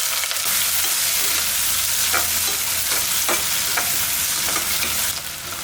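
Two large onions sliced lengthwise sizzle steadily in hot oil for a vegetable biryani in a pressure cooker, with a dense continuous frying hiss and a few soft stirring clicks throughout.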